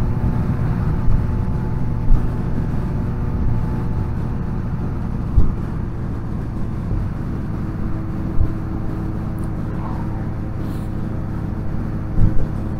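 A Suzuki GSX-S750 AL9 naked motorcycle rides along with a steady, droning engine and wind rush, holding a constant loud tone throughout with a few brief bumps.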